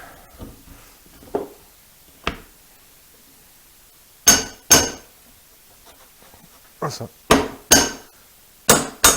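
A metal workbench holdfast is knocked into freshly drilled holes in a woodworking bench. Sharp, ringing hammer strikes come singly and in quick pairs with pauses between them, loud and close, with no talk.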